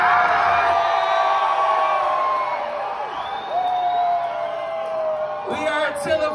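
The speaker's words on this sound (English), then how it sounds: "If y'all got a good time tonight, let me hear you scream as loud as you fucking can." A concert crowd at a metalcore show in Austin, Texas, screaming and cheering loudly in one sustained roar, with piercing whoops and shouts rising over the mass of voices toward the end.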